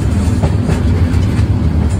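A train on the steep rack section of the Oigawa Railway's Minami Alps Abt Line rumbles steadily along the rails, a loud, even low roar with faint rhythmic clatter and no talking.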